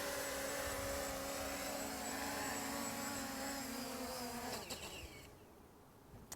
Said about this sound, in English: Now let's just push the home button. Let it land right here.